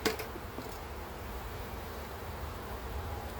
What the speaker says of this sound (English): Calm those bees right down.